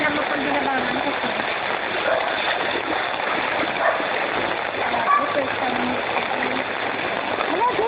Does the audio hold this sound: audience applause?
no